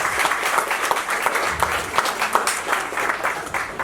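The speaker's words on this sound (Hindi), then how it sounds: "मैं चाहता हूं कि एक बार ताली के साथ अभिनंदन करते हैं सभी का" Steady, dense applause from a seated audience at a book launch fills the room throughout with many hands clapping together, continuous and fairly close.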